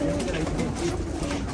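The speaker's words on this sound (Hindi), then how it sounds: "बहुत उम्दा कबूतर है ये" A Teddy pigeon coos softly in low, rolling calls, close by, over steady background noise.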